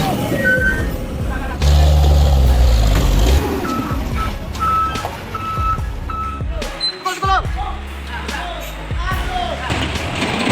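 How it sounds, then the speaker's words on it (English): A heavy truck's engine labors and hisses as it slowly reverses down a steep off-road slope, while intermittent reversing beeps sound, with a voice talking over the noise. "The truck begins to slowly reverse, inch by inch, down the steep slope."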